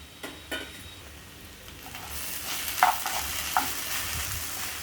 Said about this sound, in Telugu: వెల్లిపాయలు పచ్చిమిరపకాయలు కరివేపాకు ఇవన్నీ ఇప్పుడు వేసుకొని ఒక్కసారి కలిపి మనం పెట్టుకుందాం